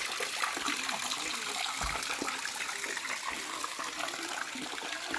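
Steady rushing water flows continuously from a water pump into a fishpond, a dense wash of splashing with no pauses, fairly loud and close throughout.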